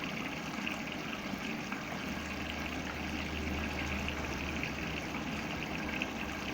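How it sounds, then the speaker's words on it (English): A washing machine draws water during its fill cycle, giving a steady, even rush of inflowing water with a low hum beneath it partway through, close and continuous with no talking. "It is taking water."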